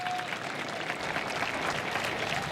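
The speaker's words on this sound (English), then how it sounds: "Crowd getting behind Filomeno" A baseball crowd in Frisco cheers and applauds a closer during a tense final inning, a dense, even wash of clapping and shouting from a distant stadium audience with no clear individual voices.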